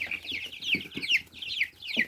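Young chicks and Muscovy ducklings peep in high, rapid, repeated calls close by, with soft overlapping chirps forming a busy chorus.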